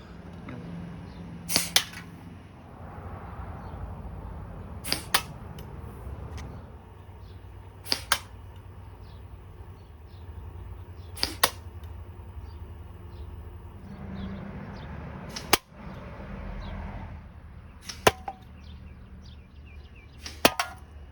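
Darts from a SOG Big Bore .625 blowgun strike targets, including an aluminum can top, with about eight sharp, loud cracks spaced a few seconds apart over steady outdoor background noise.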